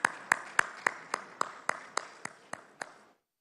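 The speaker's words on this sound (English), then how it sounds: "Let's have a round of applause." About a dozen slow, evenly spaced claps from an audience at a cricket player auction, each a sharp crack, fading out after three seconds.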